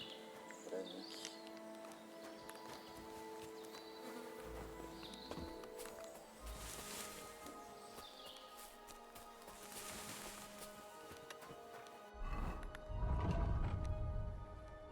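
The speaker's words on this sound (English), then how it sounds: "Achei um cavalo gigantescamente maravilhoso." A horse in Kingdom Come: Deliverance II, with faint clip-clop hooves and snorting amid ambient game sounds, quiet and somewhat masked, growing louder near the end.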